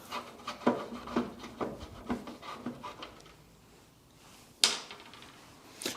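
Headlight surround being worked loose on a Land Rover overland camper, with scattered rubbing and scraping of plastic and wood-like clicks, a quieter pause, then a sharp snap as a piece pops free, close and fairly loud.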